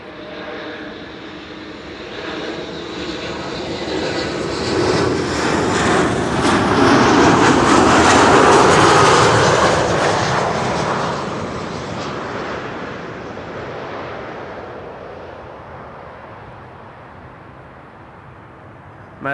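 A passenger aircraft arrives on Runway 06, the Kaagbaan, at Amsterdam Schiphol: a broad jet engine roar swells steadily as it nears, peaks loudly at mid-clip, then slowly fades as it passes, with no voices.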